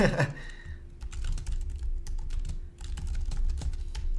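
Rapid clicking of a computer keyboard being typed on, an irregular run of light keystrokes at close range lasting a few seconds, with no speech over it.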